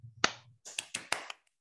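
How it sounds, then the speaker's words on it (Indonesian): A few sharp, separate hand claps ring out in a quiet classroom, five or six spaced, uneven claps rather than full applause, following a brief low hum. "tepuk tangan."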